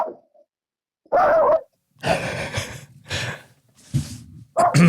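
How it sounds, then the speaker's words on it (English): Dogs bark in several sharp, separate bursts with short gaps between them, fairly close and loud, with no talking over them. "That's my Bigfoot dogs. Yeah, they're getting after it."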